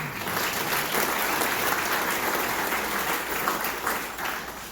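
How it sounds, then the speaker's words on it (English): Applause at a high school sports hall of fame induction, a dense, sustained round of clapping from a sizable audience that stays loud and even throughout. "please give them a round of applause"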